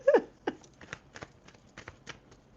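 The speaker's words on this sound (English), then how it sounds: "We gotta shuffle these cards" Soft, quick riffling and flicking of tarot cards being shuffled, a series of light taps and slides close by in a quiet room.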